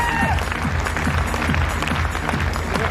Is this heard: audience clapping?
yes